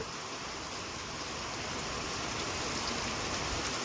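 Heavy rain pours down on a groundnut field as a dense, steady hiss, constant and enveloping with no pauses or voices.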